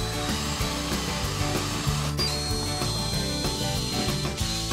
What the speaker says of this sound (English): when I drill my 7/16 bit, I'm only going to go through this side